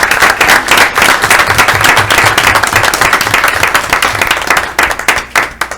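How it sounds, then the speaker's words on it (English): Loud, close applause from a school board meeting audience, with individual claps sharply distinct in a brisk, uneven rhythm that thins slightly toward the end. "big round of applause for all these individuals"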